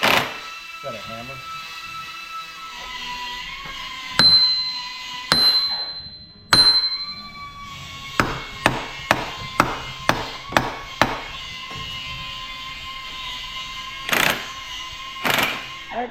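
A hammer strikes a stuck axle in a Can-Am X3 transmission, with a few loud metallic clangs followed by a quick run of evenly spaced blows and more strikes near the end, with people talking.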